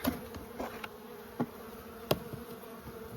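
A faint, steady buzzing of honeybees hangs in the background during a spring hive inspection in a forest, broken by a few soft taps and knocks. No one speaks.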